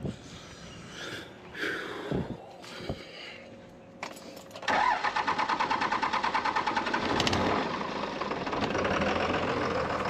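A 2001 Cummins diesel engine cranking with rattles and clunks, then catching and running rough after its fuel system is bled, settling into a loud, close, uneven knocking idle with a rapid pulsing beat.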